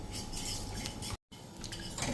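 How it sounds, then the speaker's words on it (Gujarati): Quiet scraping and clinking of a utensil stirring drumstick sabji in a metal pan, a steady rustle with a brief silent gap partway through. "અને આ રીતે આપણે હલાવતા રહેશું."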